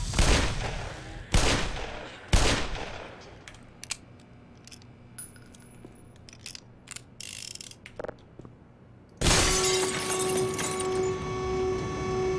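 Automated turrets fire in the Black Mesa shooter game: three sharp bursts open the scene, scattered clicks and mechanical clatter follow over a quiet gap, then a loud sustained burst of noise with a tonal hum closes it.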